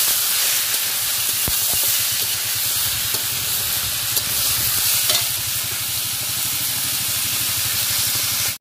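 Spiny gourd, red lentils and other vegetables frying in a hot pan, a dense steady sizzle and hiss with rhythmic scraping from stirring throughout, up close and alone.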